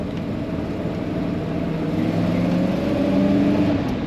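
A 1955 Ford Thunderbird convertible, first generation, accelerating on the road, its engine a steady low drone that swells gradually louder, with no talking over it.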